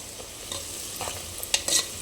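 Curry leaves and spices frying in a pan for a mutton curry are stirred, giving a short burst of sizzle with scraping spoon strokes that grow louder toward the end; no voices.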